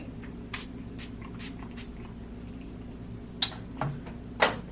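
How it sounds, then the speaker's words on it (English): Short hissing bursts of makeup setting spray misted onto a face, a few quiet puffs close by against a soft room background with light shuffling. "Let's put a little spray to set the highlight."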